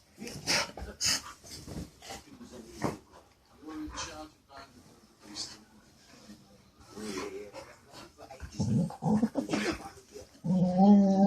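A dog tucked inside a covered dog bed snorts, sniffs and whimpers in short bursts close by, while a person talks to it in between.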